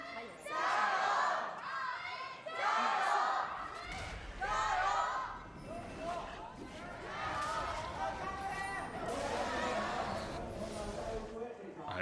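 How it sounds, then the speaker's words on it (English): A packed live esports arena crowd at an LPL Spring 2021 League of Legends match cheers and roars in repeated waves, loud at times, with a commentator's voice running over it. "to be able to hear the crowd cheering for the players"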